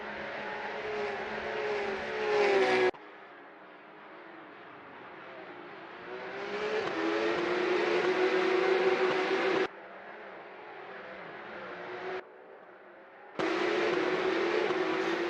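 Porsche Supercup race cars in Assetto Corsa at the Hockenheimring, engines droning and rising in pitch as they accelerate, loud and steady, cut into segments with brief quieter gaps between passes.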